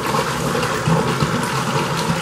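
Five liters of water poured into a cement mixer, a loud, steady gushing and splashing rush that stays close and continuous the whole time, with no talk over it.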